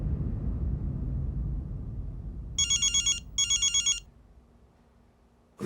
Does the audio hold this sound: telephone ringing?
yes